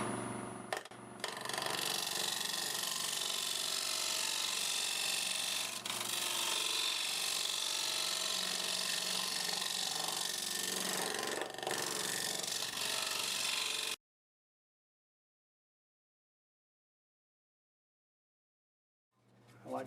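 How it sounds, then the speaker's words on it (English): A negative rake scraper works the surface of a multi-axis wood-turned bowl spinning on a lathe. A steady, gritty, continuous whir runs for about fourteen seconds, then cuts off abruptly into silence. "let's go ahead and use the negative rake scraper and clean it up"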